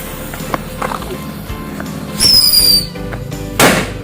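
A rat firecracker (petasan tikus) going off outdoors: a loud rushing burst with shrill whistling tones, then a second sharp blast, over a rough, noisy background.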